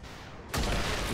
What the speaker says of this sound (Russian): Давай-ка, снайпер, поработай здесь с винтовочки.